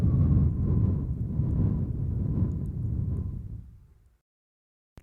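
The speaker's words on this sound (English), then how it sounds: "And then exhale slowly and gently through your mouth for double the time" A slow breathwork exhale through the mouth sounds as a long, soft, breathy rush close to the microphone. It lasts about four seconds, tapers gently and gives way to silence.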